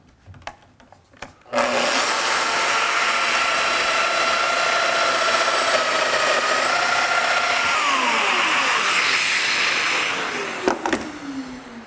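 A Festool Domino joiner cutting mortises into wooden gate rails whines loudly and steadily for about nine seconds after a few short clicks, its pitch dipping slightly as the cutter plunges before the motor winds down.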